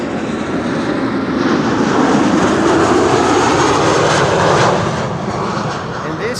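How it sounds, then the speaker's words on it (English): A German Airways jet flying for KLM CityHopper, arriving at Amsterdam Schiphol from London City, rushes past with a steady broadband engine roar that swells briefly and then eases off. "This is KLM Flight 982 arriving from London City"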